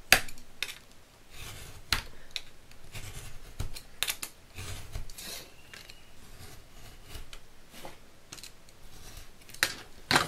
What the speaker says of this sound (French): on va couper ici. Donc c'est de la cartonnette de calendrier, donc c'est pas évident à couper.